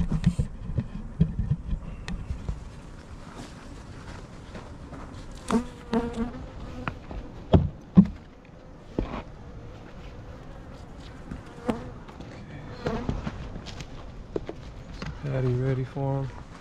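A full hive box of honey bees, about eight frames, buzzing steadily up close while people talk and handle the equipment with occasional knocks.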